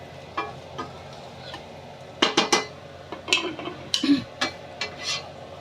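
Banana blossom is sautéed in an oiled pan with a faint sizzle beneath clinking and scraping of a utensil against the pan, the knocks coming in irregular bursts.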